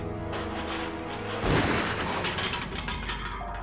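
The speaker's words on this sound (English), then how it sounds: "fired the first shot from behind the van" A rifle fires during a crime reenactment: one sharp, loud shot cuts through a sustained tonal music bed, followed by a fading rumble with the music continuing.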